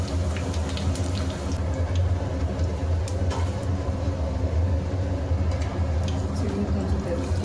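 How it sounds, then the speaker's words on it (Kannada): Kitchen chimney exhaust hood running, a constant low droning whoosh of fan and airflow filling the room, with faint cooking sizzle and small clicks mixed in, steady and close. "ಚಿಮ್ನಿ ಸೌಂಡ್ ಜಾಸ್ತಿ ಆದರೆ ಪ್ಲೀಸ್ ಇಗ್ನೋರ್ ಮಾಡಿಬಿಡಿ"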